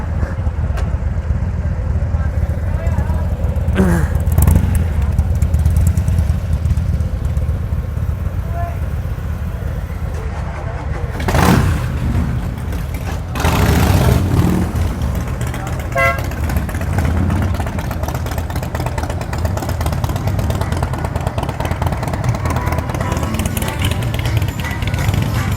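A BMW S1000RR superbike engine runs nearby amid busy street traffic, a sustained low rumble mixed with passing vehicles, car horn toots and people talking in the background.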